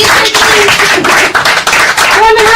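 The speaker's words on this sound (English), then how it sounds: "So once again, a round of applause." Audience applause at a live podcast event, dense continuous clapping filling the room throughout, loud and sustained with slight swells.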